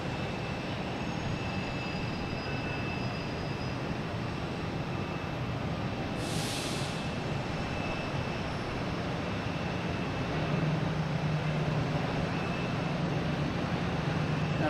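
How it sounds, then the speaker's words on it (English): A Pilatus aircraft takes off at Boston Logan Airport, bound for Portsmouth. A steady, distant broadband roar holds throughout and swells slightly toward the end, with no voices. "Next takeoff is Pilatus heading to Portsmouth"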